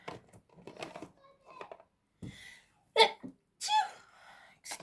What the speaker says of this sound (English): yeah, I sneeze funny, I know